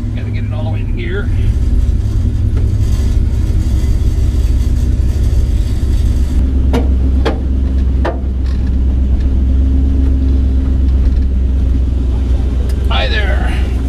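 A 1957 car's engine rumbles at low pitch while it is shifted into gear, the running sound continuous and loud, with the tone changing partway through and people talking over it at a classic car event.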